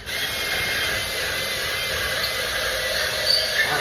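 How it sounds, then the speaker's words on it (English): A power drill bores into a steel punch-and-dimple door frame for a fire-rated commercial door, a steady high whine running close and unbroken for several seconds. "go ahead and drill it"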